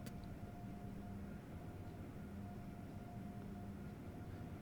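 An Amtrak Acela train braking in Train Sim World 4, heard as a steady, dense rumble with faint high tones running through the whole stretch, with no pauses.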